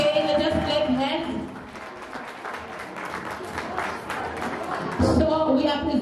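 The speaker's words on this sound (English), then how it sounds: "let us clap hands" Audience at a school green club launch claps through the whole stretch, a steady wash of applause with voices talking over it, growing louder again near the end.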